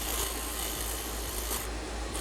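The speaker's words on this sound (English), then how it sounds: "I'm just rolling that file over my curve here." A hand file rolls over the curved surface of a turned wooden chess bishop, giving a steady, close rasping scrape that continues evenly without pauses.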